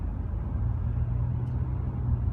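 Interior road noise from a moving 2016 Honda Accord Sport, a steady low rumble of tires and engine with a faint high tick partway through, no voices.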